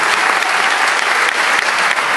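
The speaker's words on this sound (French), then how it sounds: "On peut applaudir Momo, s'il vous plaît" A congregation at a student Mass applauds Momo, dense and steady clapping from many hands filling the church, loud and continuous throughout with no speech over it.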